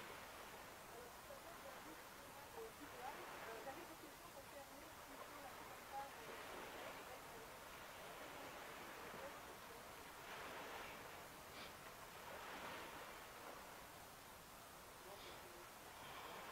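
Ocean waves roll in behind a speaker as a steady, faint, broadband wash with soft periodic swells every couple of seconds, continuous and distant under quiet background.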